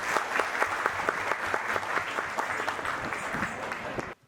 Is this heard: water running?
no